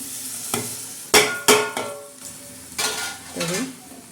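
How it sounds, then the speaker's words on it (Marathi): Washed rice being stirred into sizzling tempering in a pot for spicy chicken pulao: a spoon scrapes and clanks against the pot in several distinct strokes over a continuous close frying hiss. "चांगला आपण आता हलवून घेणार आहोत"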